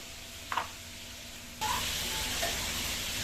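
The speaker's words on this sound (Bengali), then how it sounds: "গোস্ত আমরা আগে একটু ভেজে নিচ্ছি এই গোস্তটা তেলের উপরে একটু ভেজে নিলে খুব সুস্বাদু হয়" Meat fries in hot oil with a steady close sizzle that jumps louder partway through, along with faint stirring clicks.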